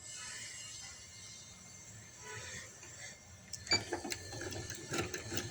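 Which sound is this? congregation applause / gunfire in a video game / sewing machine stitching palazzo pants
sewing machine stitching palazzo pants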